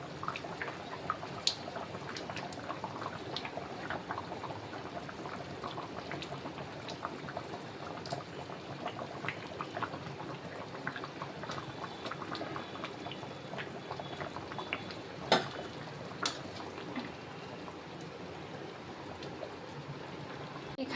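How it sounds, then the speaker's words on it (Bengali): Mutton bubbling in a pressure cooker, a steady low simmer of gurgling liquid with scattered small pops and clinks that carries on evenly throughout. "এখানে আমি একটা প্রেসার কুকার রেখে দিয়েছি, মাংসটা দেখো ফুটছে"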